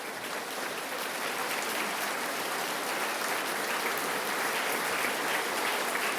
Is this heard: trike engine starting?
no